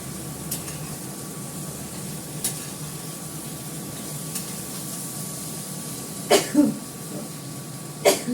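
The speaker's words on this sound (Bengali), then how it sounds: "গরমে কাশি সব এসে যাচ্ছে। ঝালটা নাকে ঢুকছে।" A cook coughs a few times in short bursts near the end while food frying in a pan keeps up a low, steady sizzle, with faint occasional stirring taps earlier.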